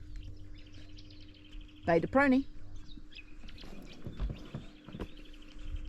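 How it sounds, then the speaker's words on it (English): Birds call in Baie de Prony, New Caledonia, at an anchorage: a brief burst of bright chirping stands out near the middle, with scattered fainter calls around it and people talking over steady background noise. "I love the bird noise."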